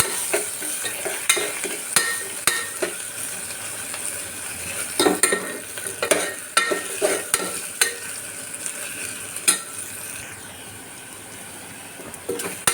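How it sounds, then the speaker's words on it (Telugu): Ginger garlic paste frying in a pan for a drumstick mutton curry, a steady low sizzle under repeated scraping and clinking strokes of a spoon stirring against the metal, close by, with no talking. "అల్లం వెల్లుల్లి పేస్ట్ యాడ్ చేసేసాము ఇది ఒకసారి కలిపేసుకుని కాస్త ఫ్రై అవినిద్దాం పచ్చివాసన పోయేంత వరకును"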